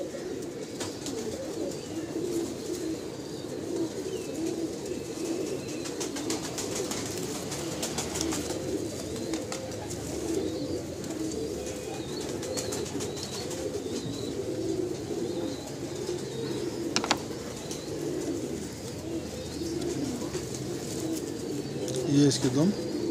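Pigeons of a prized breeding pair coo steadily throughout, a continuous soft murmuring chorus from several birds, with faint chirps and occasional wing rustles; no talking is heard.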